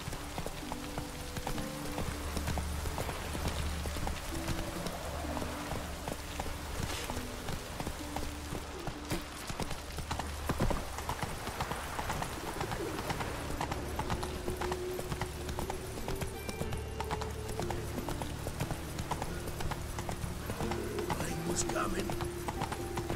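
Roach, the horse in The Witcher 3, trotting with steady rhythmic hoof clip-clop over a constant rain-like ambient wash, with occasional voices speaking over it.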